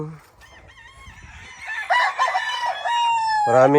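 Roosters crowing and chickens clucking at a farm with gray gamefowl stags, loud and close, several overlapping crows rising toward the end with scattered clucks in between.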